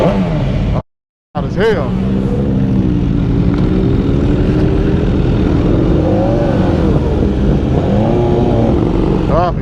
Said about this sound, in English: Back at home on S1000, man. I start this boy up.